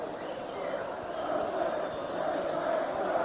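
Football crowd at Wembley during the Middlesbrough v Aston Villa 1989-90 ZDS final gives a goalkeeper sustained, generous applause, a broad distant roar of clapping and cheering under faint commentary.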